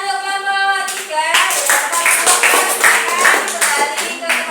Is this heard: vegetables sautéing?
no